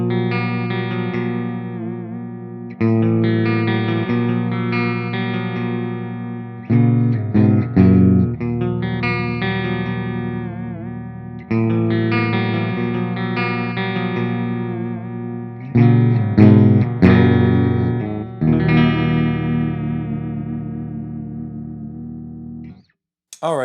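Firefly Dimebag Stealth electric guitar on a clean tone through the bridge pickup, strummed chords and ringing notes played alone in loud phrases with short pauses, ending abruptly.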